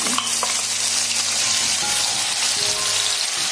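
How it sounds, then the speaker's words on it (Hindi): Spice paste hits hot oil for Tibetan thukpa, giving a loud, steady sizzle with crackling spatter that continues evenly throughout, with no voices over it. "स्पून ऑयल गरम कर लिया है, और मैंने जो पेस्ट किया था ये अभी मैं डाल लूंगी।"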